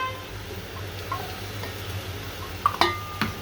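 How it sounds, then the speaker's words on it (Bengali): Onion, garlic and bay leaf going into a pan of spiced beef trotters: a soft continuous sizzle with light stirring, then a few sharp metallic clinks of a utensil against the pan near the end, no speech. "এখানে দিচ্ছি পেঁয়াজ, রসুন,"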